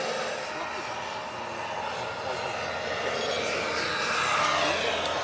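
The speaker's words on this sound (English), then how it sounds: "As you see, I've just speeded the helicopter up" A high, whining model radio-control helicopter turbine engine hums steadily and rises slightly in pitch as it speeds up, loud and close, with no talking.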